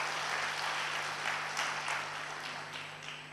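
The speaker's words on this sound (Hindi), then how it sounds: "एक बार जोरदार तालियां फिर से हो जाए" Audience applause at a cultural programme during a media seminar in Mount Abu, a sustained, even patter of many hands at moderate volume with no talk over it.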